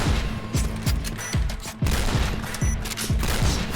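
Rapid bursts of HK-417 rifle fire in a first-person shooter game, roughly a shot every half second, loud and close with sharp repeated cracks and no talk over them.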